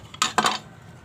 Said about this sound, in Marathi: एका भांड्यावर काढून घेते बघा